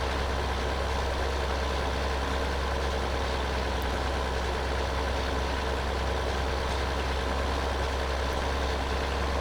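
A roughly 200-220 horsepower tractor engine in Farming Simulator 2013 runs in a steady, deep idle drone, loud and continuous with no change in pace.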